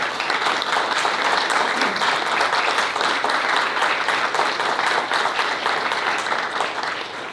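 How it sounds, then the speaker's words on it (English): A school board meeting audience gives a standing round of applause for two retiring staff members, dense steady clapping from a crowded room that holds throughout and eases slightly at the end. "if you guys want to stand for a quick applause"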